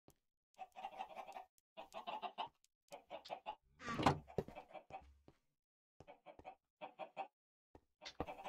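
Minecraft chickens cluck in short repeated bursts with gaps between, one louder rustling hit midway; clean game audio with no talk.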